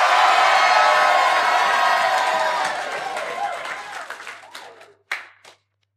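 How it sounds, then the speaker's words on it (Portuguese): A large congregation at a prayer gathering in Honiara, Solomon Islands, erupts in loud applause, cheering and shouting that holds for a few seconds, then thins out into scattered claps and calls, ending with a final burst. "Dê um grito de aplausos para Jesus."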